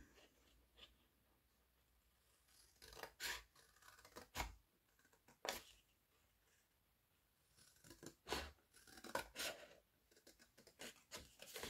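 Scissors cut through thick paper, giving a series of sharp, separate snips and scrapes spaced a second or two apart, close but faint, with no talk.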